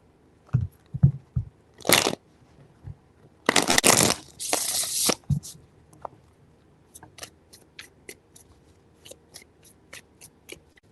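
Tarot cards shuffled by hand in several quick riffling bursts, loud and close, with soft taps and small clicks between them and no voices.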